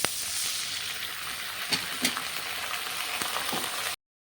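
Water hits a hot pan of frying pumpkin and shrimp, setting off a loud, steady close-up sizzle with a few sharp pops and stirring clinks, until it cuts off abruptly.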